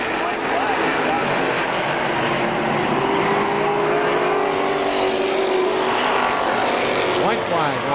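Race cars lap KilKare Speedway in a loud, continuous engine roar that rises and sweeps as cars pass close, with a track announcer talking over the noise.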